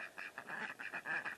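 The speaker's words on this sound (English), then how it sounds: "You can hear the ducks in the background." Ducks on a small farm quack in a quick run of about six to eight calls, faint and somewhat distant with no one talking.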